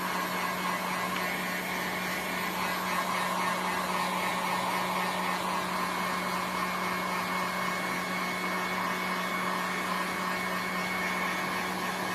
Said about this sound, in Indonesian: Gunakan hot gun ya, tidak bisa menggunakan hair dryer